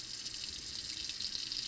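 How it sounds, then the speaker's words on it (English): A faucet runs for hand washing, a soft, steady stream of water splashing into a sink, continuous and fairly quiet. "I want you to turn on the water faucet"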